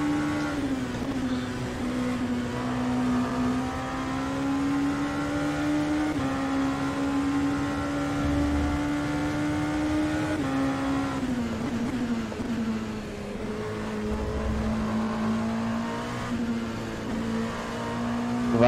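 A Ligier JS P217 LMP2 race car engine in the rFactor 2 video game drones steadily at high revs, holding a sustained buzzing pitch with brief dips and rises as it shifts through a lap.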